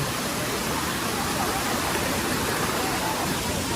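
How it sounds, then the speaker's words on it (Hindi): A large waterfall in Assam roars as a constant, dense broadband rush of falling water, steady and unbroken throughout. "उसका वाटरफॉल है ना वो बहुत बड़ा है"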